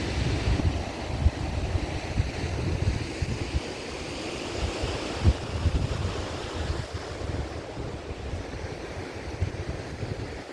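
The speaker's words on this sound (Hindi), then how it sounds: "ये पुल है और ये माँ गंगा रिवर है" Ganges river water rushing below a bridge near a mountain waterfall, a steady loud broadband roar with wind buffeting the microphone, no voices.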